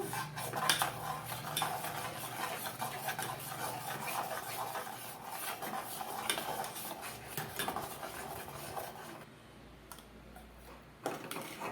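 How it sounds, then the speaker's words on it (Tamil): Ragi flour dough being stirred in a pan on the stove as it thickens: a steady, close scraping and clinking of a utensil against the pan, continuous and moderately loud, easing off near the end. "அந்த மாவு நல்லா கெட்டி ஆகணும் அதனால் கிண்டிக்கலாம்"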